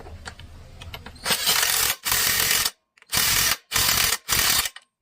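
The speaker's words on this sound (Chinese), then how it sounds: "定位螺丝先给它上上去啊。" A ratchet wrench drives in screws while an electric scooter tire is mounted, heard as close, loud bursts of rapid clicking, first one long run, then several shorter ones separated by pauses, after faint ticking at the start.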